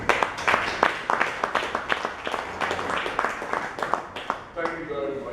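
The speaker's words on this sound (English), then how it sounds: "we'll give all of them a round of applause" At a 2014 Lagos State Ministry of Justice press briefing, the room breaks into scattered, uneven clapping that carries on for several seconds, fading as a speaking voice takes over at the end.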